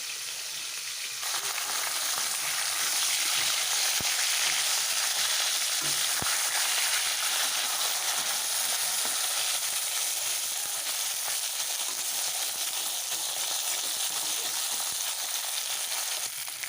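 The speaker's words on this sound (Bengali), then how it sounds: "হয়ে গেছে আমার মাছের মাথাটা ভাজা করা" A fish head fries in hot oil with a loud, continuous sizzle and crackle that holds steady throughout, close up and with no talking.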